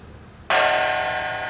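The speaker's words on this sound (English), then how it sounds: "A gong, in fact, it is what we call in Occident a tam-tam." A tam-tam gong is struck once with a sudden bright attack, then rings on in a loud, shimmering sustain that fades only slightly.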